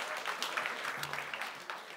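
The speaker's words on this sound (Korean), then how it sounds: "대한민국에서 최고의 음악 선생님들이, 박수 한번 쳐주십시오." Audience applause for music teachers at a traditional Korean gut ritual performance, a short burst of scattered clapping heard fairly faintly, with a voice briefly underneath.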